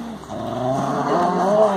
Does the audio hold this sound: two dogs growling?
yes